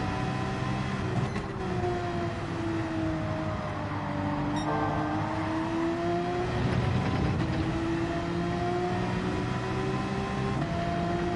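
Porsche in Gran Turismo 7 racing with a steady engine drone whose pitch climbs and falls through gear changes, continuous and fairly loud with no talking over it.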